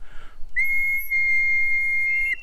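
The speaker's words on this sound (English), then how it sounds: "lovely little woodsman's whistle" A freshly hand-carved green wooden bark woodsman's whistle gives one clear, sustained, pure high-pitched tone lasting nearly two seconds, close and loud, after a brief breathy rustle.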